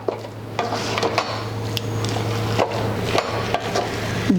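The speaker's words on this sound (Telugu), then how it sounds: "కలుపుతూ ఉండాలి." Potato and semolina vada mixture being stirred in a pan, with soft continuous scraping and occasional light clinks of the utensil against the pan over a steady low hum, and no voices.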